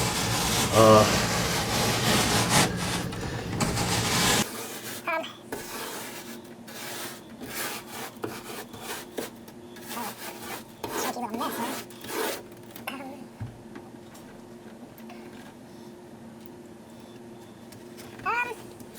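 Scrubbing of a rust stain in a bathtub coated with baking soda, giving close rasping, rubbing strokes in uneven bursts, loud at first and then lighter and intermittent, with brief pauses between passes.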